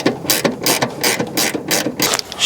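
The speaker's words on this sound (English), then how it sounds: "Just trying to crank these little battery cable ends on." A hand ratchet tightens small battery cable end bolts on a 1963 Oldsmobile 98, giving loud, close, rapid clicking bursts in a steady back-and-forth rhythm with no talk.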